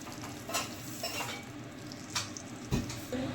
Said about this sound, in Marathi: तडका मस्त आपण या चटणीमध्ये सोडत आहे